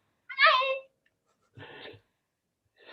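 A pet cat meows at home during a live online open mic, a loud bright meow followed by a softer second call and the start of a third, with silence between them.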